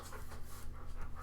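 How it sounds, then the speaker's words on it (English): A coon dog pants heavily and rhythmically in the background, quick soft breaths repeating for just over a second, quiet and close. "If you hear heavy breathing in the background"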